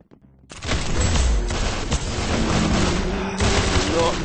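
Gunfire in a video game: a dense, loud barrage of shots and booming blasts runs almost continuously after a brief quiet start, with players talking over the action.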